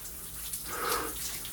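Cold water splashes and streams around a person slowly turning in place, a continuous close watery rush that swells toward the middle and settles back, with no speech.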